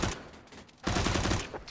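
Gunfire from the video game Counter-Strike, a terrorist flanking from behind: a short dense burst of shots, a brief lull, then a louder sustained volley of rapid fire, close and alone with no talk.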